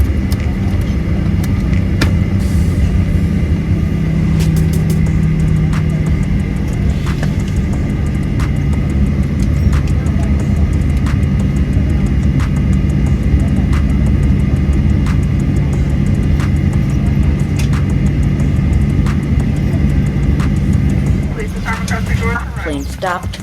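A Southwest Airlines airliner finishing an Austin to Chicago flight gives a loud, steady roar of engines and cabin rumble heard from inside, easing and dropping away near the end as the plane stops.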